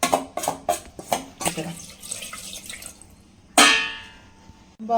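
Water splashes and pours into a metal pressure cooker for mutton biryani in short bursts, with a louder gush near the end; close and fairly loud.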